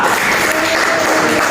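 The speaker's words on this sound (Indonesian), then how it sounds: "Silakan tepuk tangan untuk kelompok 2." Classroom applause for a group of children, a short, dense, loud burst of many hands clapping at once, filling the room evenly.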